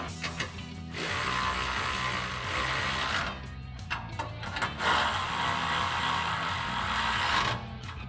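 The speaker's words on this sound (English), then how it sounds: "take a 10 millimeter socket and tighten down all your nuts" A hand ratchet with a 10 millimeter socket clicks steadily while tightening the nuts on polished 6-inch running boards for a 2019 or newer Ram 1500. The rapid ratcheting is close and loud, runs in long stretches with brief pauses, and no one speaks.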